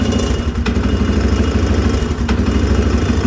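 A Polaris Sportsman 500 ATV engine idles just after an idle adjustment, close and loud, with a steady low chugging rhythm and a faint mechanical clatter.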